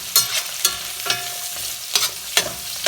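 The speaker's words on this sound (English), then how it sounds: "Just a quick stir." Carrots stirred briefly in a hot stew pot: several quick, bright scraping strokes close up, spaced unevenly against a low frying hiss, with no talking.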